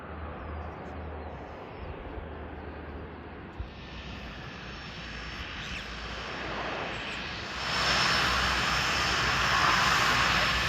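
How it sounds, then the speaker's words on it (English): Airplane taking off from an airport: a distant engine rumble that grows into a loud, broad roar as power builds, swelling steadily toward the end. "we've got a different plane taking off"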